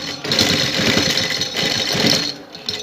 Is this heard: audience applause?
no